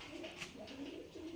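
A male Rajshahi giribaz pigeon coos softly, a few low, rolling murmurs in quick succession, faint and close against light background hiss.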